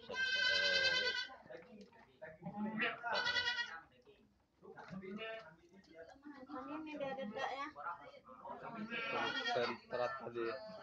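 Thai goats, including a crossbred kambing kacang, bleat loudly several times in a farm pen, their harmonic calls mixed with nearby voices talking over and between them.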